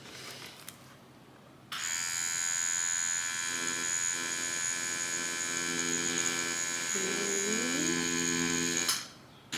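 A tattoo machine runs with a steady electric buzz for about seven seconds, close and loud, starting and stopping abruptly, with no talking.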